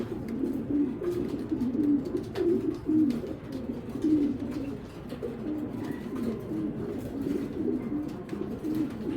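A super breeder pigeon held in the hand coos in repeated low, throaty rolling phrases, close and clear over a faint background for the whole stretch.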